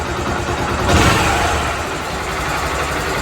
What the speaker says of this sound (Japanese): じゃあちょっとエンジンかけて暖気しときますか。